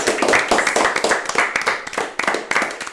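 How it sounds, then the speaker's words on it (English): Loud, steady clapping from an audience at a live-streamed animation award show, spread through the whole moment, dense and close, with no voices. "I know the clapping is way louder"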